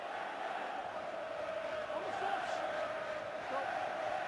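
Leigh rugby league fans in a stadium crowd of thousands keep up a sustained roar of noise and chanting, a broad continuous wash with no clear peaks, while a commentator talks over it.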